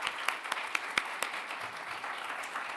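A lecture audience applauds to welcome Judge Beth Robinson, steady clapping from many hands with a few sharper claps standing out at first, continuing evenly for a few seconds with no talking.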